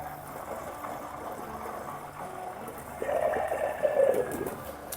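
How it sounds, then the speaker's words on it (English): Soft bubbling and gurgling of lard boiling down with water close by, growing a bit louder and more active partway through, with no talking. "that is the lard boiling down with some water"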